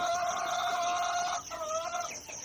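Laying hens on a farm, older birds still in lay, give steady overlapping clucks and murmurs close by, with a brief dip before the flock carries on.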